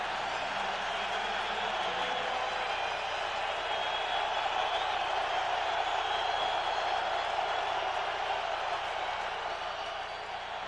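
A dense, steady roar rises from the stadium crowd at a 2003 Steelers versus Seahawks NFL game, sustained and broad without a break for the whole stretch.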